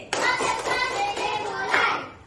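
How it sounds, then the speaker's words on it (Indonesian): A class of schoolchildren does a rhythmic concentration clap, a quick sequence of close, crisp hand claps with faint young voices mixed in. "Tepuk konsentrasi."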